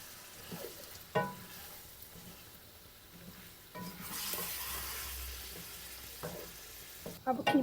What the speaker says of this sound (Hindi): टमाटरों को कीमे के साथ मिक्स कर दें।